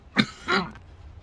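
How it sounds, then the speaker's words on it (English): Two sharp, close coughs in quick succession, with a raspy throat-clearing edge, then quiet. "I was coughing too hard."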